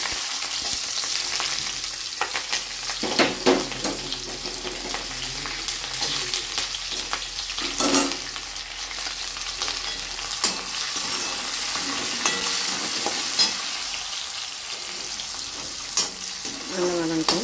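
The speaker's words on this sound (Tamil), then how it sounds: "வெங்காயமும் பச்சை மிளகாவையும் போட்டோம்." Sliced onions and green chillies fry in oil in a pan for ennai kathirikai poriyal, giving a steady close sizzle with repeated scraping and clattering as a spoon stirs them.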